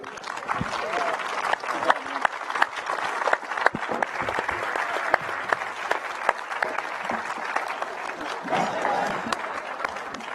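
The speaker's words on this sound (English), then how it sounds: "Let's do another round of applause for everyone." Warm audience applause at a NASA and Axiom Space event unveiling the Artemis III moon mission spacesuit prototype, continuous clapping with scattered sharp claps and crowd murmur, lasting around ten seconds at a moderate distance.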